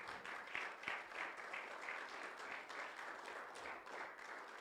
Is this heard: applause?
yes